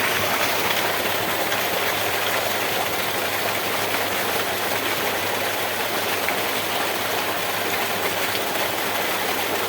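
Continuous loud rush of water and low mechanical hum as a Liverpool 7.5 hp electric pump motor drives a 4-inch delivery through two outlets, holding steady throughout without any voices.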